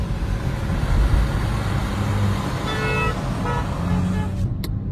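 Road noise from a Changan Alsvin 1.3 pours in through a lowered window as it drives, a steady broadband rumble with traffic passing and a brief horn-like tone toward the end.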